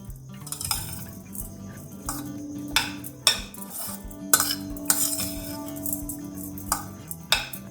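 A spoon clinks and scrapes against a metal pot in irregular strokes while sugar is mixed in for sabudana khichdi, with faint sizzling in the background.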